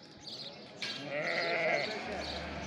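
Lambs bleat close by at a livestock market, a drawn-out wavering cry that swells and holds for a couple of seconds, with no talking.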